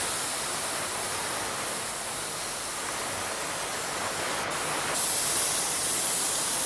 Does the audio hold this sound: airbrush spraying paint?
yes